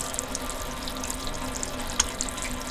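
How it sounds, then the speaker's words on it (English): An RV water tap running on city water hookup, a quiet, steady trickle and hiss of flowing water with a few small splashes, heard alone. "So let me actually make sure the water is on."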